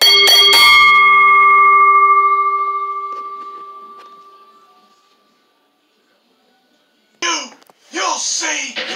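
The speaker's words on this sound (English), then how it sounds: "Ring the bell!" A wrestling ring bell is struck several times in rapid succession after the pinfall in a hardcore rules match, and its loud metallic ringing fades slowly. After a short silence, excited shouting follows.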